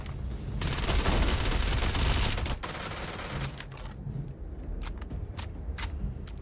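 Starfield grenade launcher blasts: a dense, loud burst of rapid explosive gunfire crackle for about two seconds, followed by scattered sharp bangs and impacts in a busy game mix.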